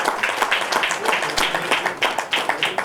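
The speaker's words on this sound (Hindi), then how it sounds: "जोरदार तालियां।" An audience at a ghazal album launch applauds loudly and steadily as a singer is invited on stage, the clapping dense and continuous throughout.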